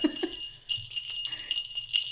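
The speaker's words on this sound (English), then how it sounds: "Oops, I just jingled." Small bells jingle in a few quick bursts, fairly close and bright, alone with no talk over them.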